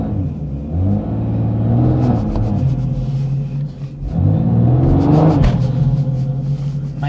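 A BMW M140i revving hard in place during a burnout attempt, loud deep engine roar rising and falling in two long surges with a brief dip between, tyre and mechanical noise layered on top.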